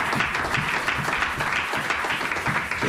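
A church congregation applauds in a steady, dense wash of clapping that holds evenly for a few seconds without pause.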